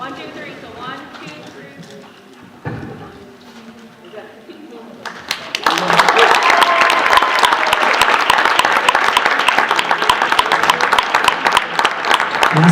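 A school crowd in a gym gives a big round of applause for senior girls basketball athletes, loud dense clapping that swells in after quieter murmuring and a brief announcement, continuing steadily to the end.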